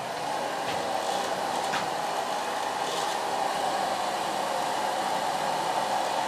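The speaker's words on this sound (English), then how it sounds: "I'm going to blow dry the hair in the natural fall." A hair dryer blasts continuously at close range while curly hair is blow dried at a salon, a loud even whooshing roar with slight wavering as the airflow moves around the head.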